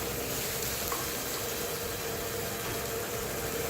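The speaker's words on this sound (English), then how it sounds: "Saute only half done." Vegetables sauté in a hot pan, giving a steady, fairly loud broadband sizzle that holds evenly throughout with no talking.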